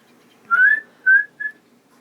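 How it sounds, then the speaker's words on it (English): A person whistles three short rising notes, close and clear, with brief pauses between them and nothing else around. "Give him a whistle to keep still and clear his head from the feeder."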